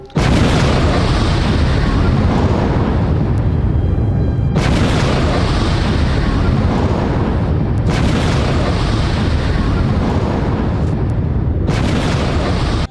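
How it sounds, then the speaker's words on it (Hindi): Rockets fired one after another in a cross-border attack on the Israel-Lebanon frontier, heavy booming blasts at roughly three-second intervals, each followed by a long rumbling roar, loud and sustained throughout. "एक के बाद एक कई रॉकेट दागे गए।"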